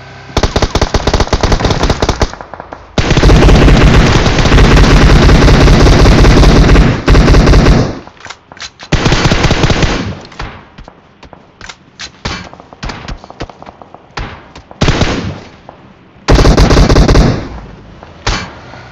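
Rapid automatic gunfire in the mobile game BGMI, loud sustained bursts broken by brief pauses and scattered single shots, with no talk.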